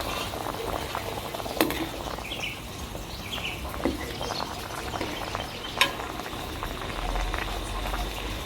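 Mangut sauce simmering with fried mackerel (ikan kembung) in a pan, giving a steady soft bubbling and faint sizzle throughout, with a few sharp clinks of a utensil.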